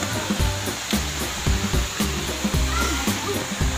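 A waterfall on Samal Island rushes in a steady, loud, broadband roar with no voices, its wash pulsing slightly as water pours and splashes.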